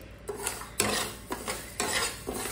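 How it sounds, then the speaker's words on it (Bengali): Dal lentils frying for khichuri, a spoon scraping and stirring through the pan in several distinct sweeps over a low steady sizzle, close and moderately loud with no talking. "আমি এখন ডালটা একটু ভেজে নিচ্ছি"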